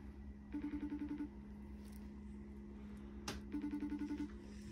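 Phone ringing out on an unanswered outdoor call, two bursts of repeated ring pulses separated by a pause, clear over steady low background hum, with a brief click midway.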